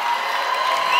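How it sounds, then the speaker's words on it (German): Audience at a lifesaving championship comedy show cheering and whooping in a steady, dense roar, loud and sustained with no pauses. "Können wir für Herrn Thorsten auch einen kräftigen Applaus?"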